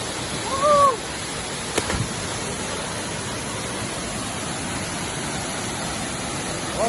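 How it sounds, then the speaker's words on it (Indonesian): The Telaga 7 Bidadari waterfall in Aceh Utara roars as a steady broadband rush of falling water, loud and constant from start to finish, with a brief faint whistle or voice near the start. "Air terjun 7 Bidadari."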